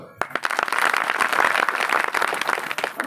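Audience clapping at a village kirtan, a burst of close, irregular hand claps from many people that begins suddenly and continues unevenly throughout.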